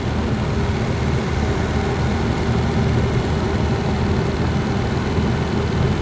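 A car fitted with a DV+ valve drives along at a gentle pace before the throttle is pressed, its engine a steady, muffled interior rumble that stays even throughout.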